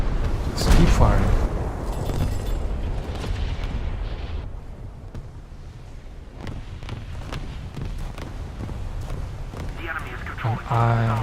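Boom-heavy naval gunfire in a boat combat video game, a sustained series of deep blasts and cracks under ongoing game noise.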